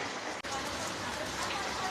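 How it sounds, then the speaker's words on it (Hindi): Heavy rain falls in a steady, loud, broadband hiss of drops striking surfaces, continuous and close with one brief dropout. "यहाँ पे बहुत तेज़ से बारिश हो रही है।"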